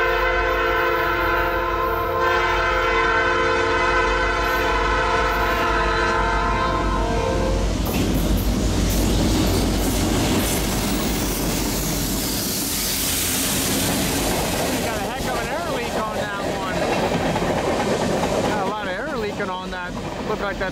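A freight train on the Osage Sub rolls through a railroad crossing, its horn blaring in long sustained blasts before the loud rumble and clatter of the passing cars take over, continuous and close throughout.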